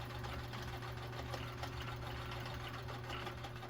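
A Viking Husqvarna 2000 sewing machine runs a blind stitch with a steady mechanical whir and fast rhythmic needle chatter, constant and close with no pauses or speech.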